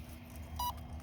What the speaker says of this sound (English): it's just the motor is beeping